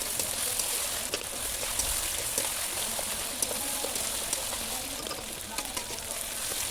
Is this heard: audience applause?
no